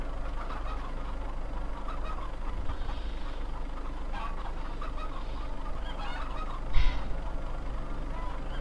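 Chickens clucking on a farm in Farming Simulator 2015, soft fowl calls scattered over a constant low hum of game ambience, fairly faint with a brief louder bump near the end.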